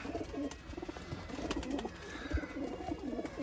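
Pigeons coo softly in low, repeated burbling calls, several birds overlapping at close range with faint background noise.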